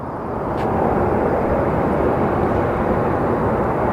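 An Alaska Airlines Boeing 787 at Phoenix Sky Harbor Airport, its engines giving a steady, loud broadband roar with no talk.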